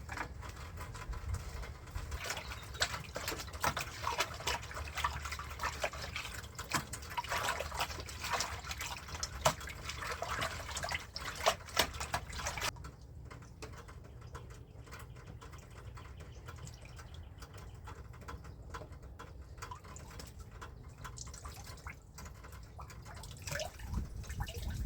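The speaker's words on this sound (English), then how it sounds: "then just continue on rinsing these pelts out." Water splashes and trickles while rabbit pelts are rinsed of brine during alum-and-salt hide tanning, soft close wet sloshing with drips that turns quieter and sparser partway through.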